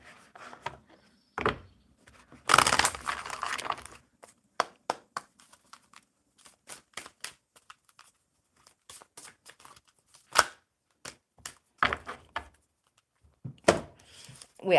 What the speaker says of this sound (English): one more good shuffle for audio bliss